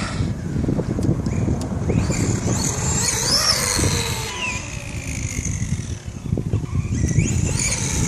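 A Proline Pro-MT 4x4 radio-controlled truck runs on a street, its electric motor whining and rising in pitch over rough tire noise and wind buffeting on the microphone, fairly loud and close.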